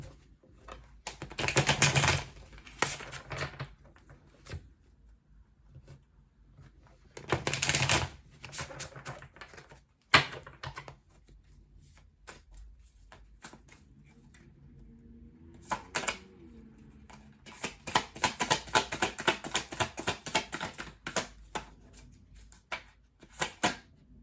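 Tarot cards being shuffled in several quick bursts of rapid riffling and flicking, separated by near silence, close and crisp.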